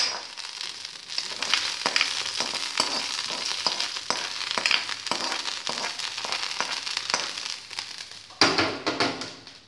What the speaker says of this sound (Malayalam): ഈ കടുക് താളിച്ചത് ഇതിലേക്ക് ചേർത്ത് കൊടുക്കാം.